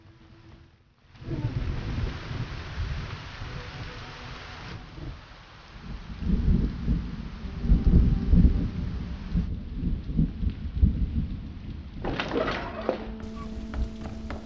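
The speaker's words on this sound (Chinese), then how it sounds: "怎么突然下这么大雨？" A sudden heavy downpour begins abruptly and keeps up a loud, steady roar. Deep rolling thunder swells through the middle, and scattered knocks and clatter come near the end.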